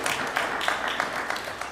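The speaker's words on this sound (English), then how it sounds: "Let's give him a round of applause" An audience at a City of Little Rock press conference claps for the Ward 1 City Director, a steady, moderately loud round of applause with no talk over it.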